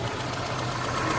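A 2002 Honda CR-V's engine idles nearby with an even, low rumble, heard for a brief moment.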